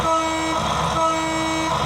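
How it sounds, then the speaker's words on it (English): Built-in horn effect on a model train locomotive sounding as a steady two-tone toot that holds through the whole moment, loud and close, with no talking. "and there's a horn."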